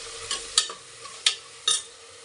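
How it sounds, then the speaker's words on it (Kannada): Peas frying with spices for fenugreek-leaf pulao, stirred with a spatula in a pan, giving four sharp scraping strokes over a faint sizzle. "ಇದೊಂದು ಸ್ವಲ್ಪ ಫ್ರೈ ಆಗಲಿ"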